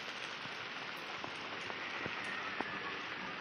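Heavy rain falling steadily on a rainy day, a dense continuous hiss with occasional distinct drips and taps on nearby surfaces, even and unbroken, with no talk.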